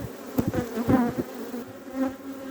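Honeybees buzzing from an opened weak hive that has been smoked, with the colony spilling outside: a close, steady droning hum with louder surges, and no talking.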